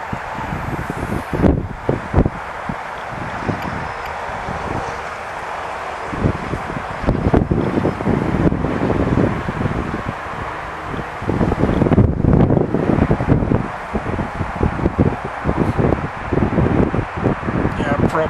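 Wind buffets the onboard microphone of a Tinyhawk 2 FPV drone flying freestyle outdoors in Milwaukee, a loud, steady rumbling roar that surges and drops with gusts and manoeuvres, with voices talking faintly underneath.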